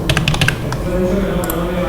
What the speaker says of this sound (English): I'm going to just type it again.